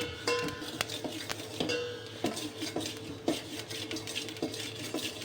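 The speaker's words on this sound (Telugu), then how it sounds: "ఇప్పుడు నువ్వులు వేసేస్తున్నా. ఇది ఒక 2 టేబుల్ స్పూన్స్ ఆఫ్ నువ్వులు. ఇది మంచిగా ఫ్రై చేద్దాం." Two tablespoons of sesame seeds stirred and dry-roasted in a pot on the stove, with a steady run of metallic scraping and clinking from the spoon against the vessel, close and fairly loud throughout.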